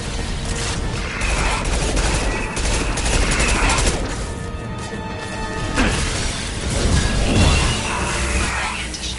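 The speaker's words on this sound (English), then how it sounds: "Anti-ship batteries at collector vessel." Heavy anti-ship batteries blast at a collector vessel in the Mass Effect 2 video game, dense overlapping booms and crashing impacts forming a loud, continuous barrage with surges near the middle and end.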